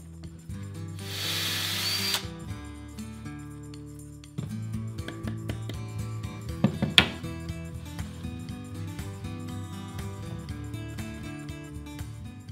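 A power drill bores into wood while a corner desk for a flight simulator is being built, whirring in several steady bursts with pitch shifts and brief pauses, close and moderately loud.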